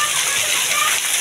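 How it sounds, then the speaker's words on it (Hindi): Heavy monsoon-season rain pours down in a steady, dense hiss that stays close and constant throughout. "आज तुमने बारिश बरसाई है"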